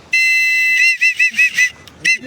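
A whistle blown outdoors on a mountain trip with friends, first one long loud steady blast, then a run of five short sharp toots and a final short blast, close and piercing.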